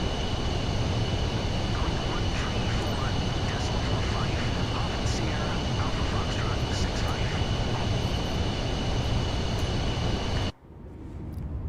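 Jet engines of an aircraft in a flight simulator game give a loud, steady, broadband roar with a thin high whine on top, running unbroken for about ten seconds before cutting off abruptly.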